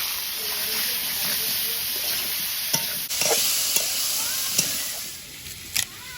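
Bitter gourd and potato fry in oil in a wok with whole cumin, salt and turmeric, a steady close sizzle broken by several sharp stirring clanks.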